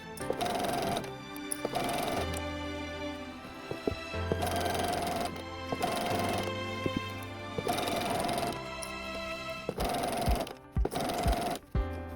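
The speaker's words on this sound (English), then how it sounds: "Sew along the pinned edge using a 1/4 inch seam allowance." A sewing machine runs a quarter-inch seam along a scrub cap's pinned fabric edge in repeated bursts of steady mechanical whirring, stopping and restarting about every second or two, close and clear with no talk.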